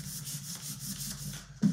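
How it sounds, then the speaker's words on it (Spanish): Sandpaper is rubbed over a brass umbrella stand in quick, rhythmic back-and-forth strokes, a close, steady gritty scraping that ends with a slightly heavier scrape. "Y fijad que estoy lijando todo el papel, incluido"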